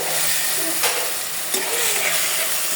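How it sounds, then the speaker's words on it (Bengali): Potatoes with spice masala are stir-fried in a pan, giving a steady sizzle with a couple of brief scraping stirs of the spatula, close and continuous. "ভালো করে আলুটাকে ভিজিয়ে নেবো, কষিয়ে নেবো মশলাটা।"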